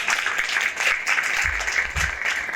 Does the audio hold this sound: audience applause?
yes